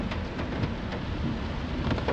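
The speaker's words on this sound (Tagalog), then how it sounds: "Grabe lakas ng ulan." Heavy downpour with rumbling thunder on a street in the Philippine countryside, a steady loud roar of rain throughout with deep low rumbles, no voices.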